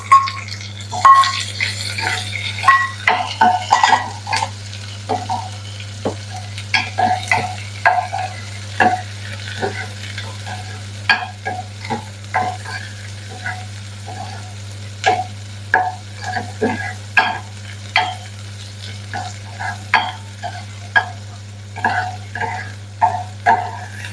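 Garlic and onion fry in oil with curry leaves, giving a steady sizzle broken by frequent clicks and scrapes of a stirring spoon against the pan, close and fairly loud over a low constant hum, with no talking.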